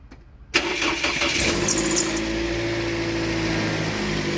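A Saudi car's engine cranks and catches after a moment of quiet, then settles into a steady, fairly loud idle heard up close with no talking.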